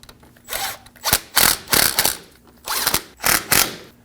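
A ratchet or power driver snugs the brake caliper slide pin bolts on a 2009-2014 Ford F-150, heard as several close, loud bursts of mechanical clicking and whirring separated by short pauses.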